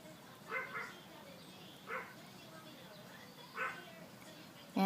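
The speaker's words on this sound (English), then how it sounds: "And if you guys hear that barking, that is my dog" Three short dog barks spaced about a second and a half apart, moderately distant, against a quiet room background.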